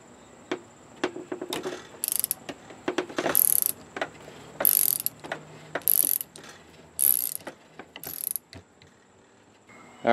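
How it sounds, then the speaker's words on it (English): A wrench turning the internal mechanism of a 40-year-old motorcycle fork gives a series of close, loud ratcheting clicks and short grinding bursts, repeated in several separate spurts with brief pauses between. "What's happened now is I'm turning the whole mechanism inside."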